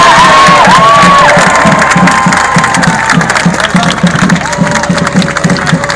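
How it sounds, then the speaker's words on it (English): A large outdoor crowd at a Melbourne march outside Parliament House claps and cheers loudly, a continuous wash of applause with whoops and shouts, some voices rising above, fading slightly toward the end. "A big round of applause for our friends down here."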